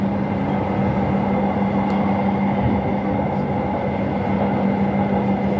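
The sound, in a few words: LRT light rail train passing by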